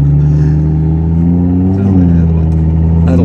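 An Audi RS3 engine hums steadily at close range, its pitch rising and dipping as it revs, with a voice speaking briefly over it.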